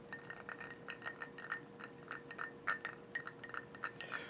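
Ice cubes clinking against a glass as a finger stirs Jefferson's Twin Oak bourbon, a steady run of light, bright taps repeating about every third of a second, close and quiet with no talking.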